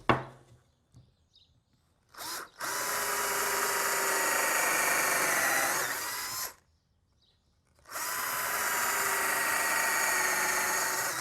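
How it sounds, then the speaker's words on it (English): Power drill boring holes into a thick wooden board for a bird feeder, two long steady whining runs separated by quiet pauses, with a short burst and clicks before the first. "Okay, and that's where I want to drill the holes."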